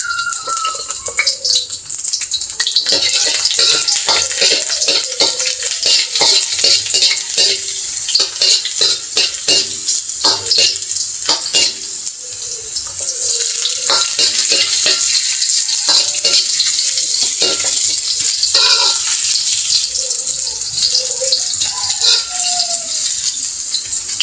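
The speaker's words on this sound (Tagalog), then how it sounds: "At dito mainit na ang mantika. Ilalagay na natin ang bawang at luya." Garlic and ginger sauté in hot oil, a steady close bright sizzle with crackling spatter and occasional stirring scrapes running throughout, with no talk.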